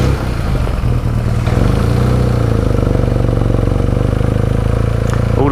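A motorcycle engine runs steadily and loudly up close on a hill, held on the clutch, a low continuous thrum with slight rises in revs.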